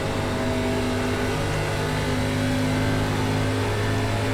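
An ARCA Menards Series stock car in iRacing laps Atlanta Motor Speedway, its engine holding a loud, steady, droning tone throughout with little change in pitch, heard close from the car.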